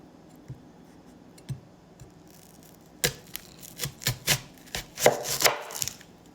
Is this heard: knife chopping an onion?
yes